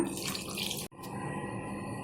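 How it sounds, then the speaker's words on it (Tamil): Water pours steadily into a cooking pan of okra curry with a splashing hiss, briefly interrupted, then continuing at close range. "இன்னும் கொஞ்சம் தண்ணி விட்டுக்குங்க."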